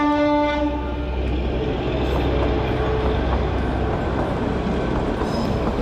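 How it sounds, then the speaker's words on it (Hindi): Toy train on the hill line near Solan on the way to Shimla, passing a railway crossing: a horn blast at the start, then a steady rolling rumble of wagons close by. "और भाई सामने टॉय ट्रेन देखो"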